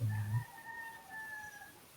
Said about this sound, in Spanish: Por allá suena un gallo.